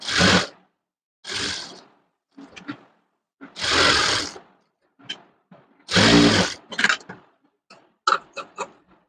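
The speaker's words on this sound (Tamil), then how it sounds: "இப்போ லைனிங்கை சுற்றி ஃபுல்லாக தையல் போட்டுக்கிறேன்" A sewing machine stitches all the way around the lining of a halter neck baby top, running in short separate bursts with brief pauses between them, close and fairly loud.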